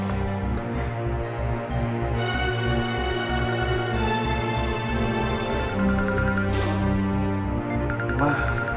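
A telephone ringtone plays loudly in a melodic, repeating pattern over a steady pulsing beat, continuous throughout with brief bursts of higher noise near the end.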